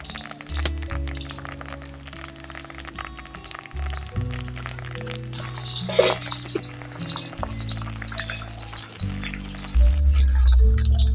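Butter melting and simmering in a pan as ghee is made, a soft bubbling sizzle broken by small crackles and a few clinks, near and moderately loud with no voices.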